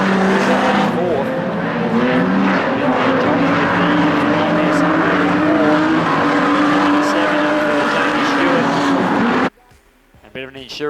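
Sprint cars roar around a speedway oval in a loud, sustained engine drone with shifting pitch as the cars circle, heard under race commentary until the sound cuts abruptly near the end.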